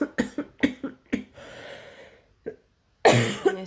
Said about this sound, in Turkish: işte böyle öksürük krizini atlattık